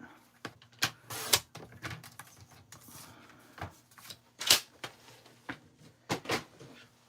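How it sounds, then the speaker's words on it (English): A mini die-cutting machine cuts out a card sentiment, with close, faint cranking and rubbing passes broken by several sharp clicks and knocks at irregular intervals. "So I'll just use my mini machine to cut this out."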